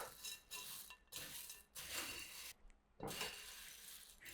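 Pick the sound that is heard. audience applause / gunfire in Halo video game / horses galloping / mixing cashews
mixing cashews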